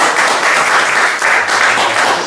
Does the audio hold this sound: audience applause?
yes